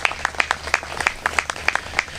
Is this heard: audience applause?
yes